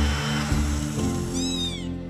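A single drawn-out cat meow, loud and close, rising and falling near the end over a low background hum, no talking.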